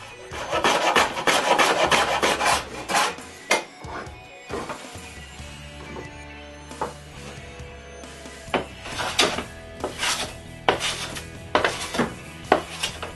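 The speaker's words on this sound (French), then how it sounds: "Je les rabote pour qu'ils s'intègrent parfaitement au cabinet." A hand plane shaves wooden drawer fronts so they fit a router cabinet, giving a series of irregular scraping strokes of varying loudness with short pauses and a few knocks between them, close by and with no speech.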